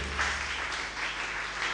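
A church congregation applauds during a French-language Sunday sermon, a steady wash of many hands clapping together with no break and no voices on top.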